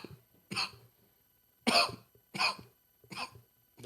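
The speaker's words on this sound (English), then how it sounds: "We can hear you coughing" A person coughs four times in short, raspy bursts with pauses between, close and moderately loud in an otherwise quiet room.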